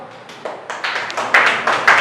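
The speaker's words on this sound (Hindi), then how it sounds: "जाओ सुमित्रा के लिए ताली बजाओ" Children in a classroom break into a short burst of clapping for a classmate who answered a number question correctly, irregular claps building and growing louder over about two seconds.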